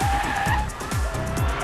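A speeding car at a stunt show skids with repeated sharp tire squeals and engine noise over a short burst, loud and close.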